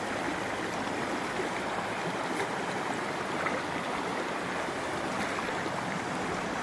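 A small waterfall spills into a cold mountain river, giving a steady, moderately loud rushing and babbling of water nearby with no voices over it.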